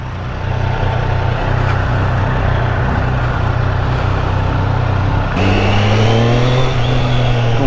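A Triumph Street Triple 765 RS motorcycle's engine drones loudly and steadily while riding, then pitches up as the bike accelerates through the gears.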